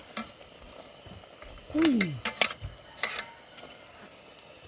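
Oyster sauce being stirred into a dish in a pan, soft sizzling under a few sharp utensil scrapes and clinks, with a brief squeaky sweep near the middle, fairly quiet and close.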